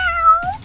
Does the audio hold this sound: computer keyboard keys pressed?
no